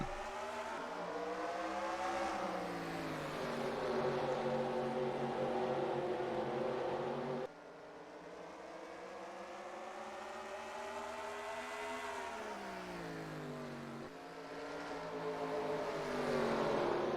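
In a NASCAR-style racing video game, a field of stock cars accelerates at the race start at North Wilkesboro. Engines rise in pitch together, drop at a gear change, then climb again, a faint steady roar with no voices.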